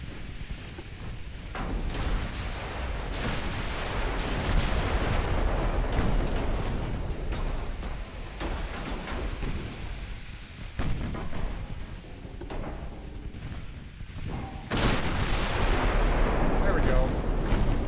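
Naval secondary guns firing high-explosive shells in the Ultimate Admiral Dreadnoughts video game, a dense continuous rumble of booming blasts and roaring explosions, loud and sustained throughout.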